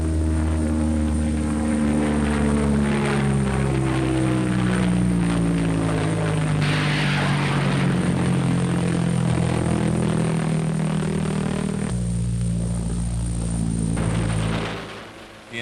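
An American 5,000-pound robot bomb taking off, a loud continuous propeller-like engine drone that holds steady, shifts in pitch as it goes, then drops away sharply at the end.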